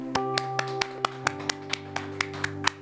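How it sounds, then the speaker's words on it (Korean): Hands clap at a Korean church Sunday service, a dozen sharp claps in an even, unhurried rhythm over sustained tones from instruments in the sanctuary. "하나님께 감사의 박수 올려드리겠습니다"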